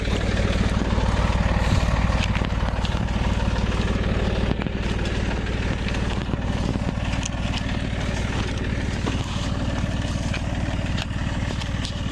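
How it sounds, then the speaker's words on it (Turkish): A Massey Ferguson 240 tractor runs in a corn field while laying drip irrigation tape, its diesel engine chugging steadily at a constant pace with some clatter throughout, close and loud with no voices. "Traktör de yeni sıraya girdi."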